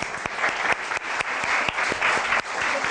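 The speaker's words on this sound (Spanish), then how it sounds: "aplauso para ellos" Steady applause from a conference audience, many hands clapping densely and evenly at close range throughout, with no voices over it.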